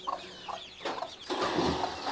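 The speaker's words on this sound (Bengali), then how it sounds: "মুরগিও আছে।" Chickens cluck in a village yard among fruit trees, short repeated calls, moderately near but fairly quiet against a low background.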